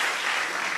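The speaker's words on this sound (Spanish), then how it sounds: "un aplauso para él" TV show studio audience applauding a singer, a brief, dense and even burst of many hands clapping at close range.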